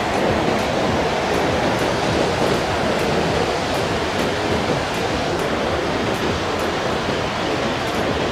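Bow Falls in Banff, a broad waterfall on the river in the Canadian Rockies, makes a steady, loud roar of rushing water that fills the whole stretch without letup, with no voices over it.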